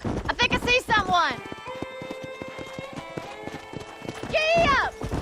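Horse galloping in the Red Dead Redemption video game: rapid, steady hoofbeats thud along a trail through the middle of the clip, with talking voices at the start and end and spoken over the hooves.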